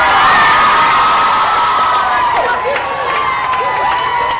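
A large crowd gathered outside a courthouse cheers and shouts at a verdict, a dense, loud wash of voices with whoops rising over it throughout.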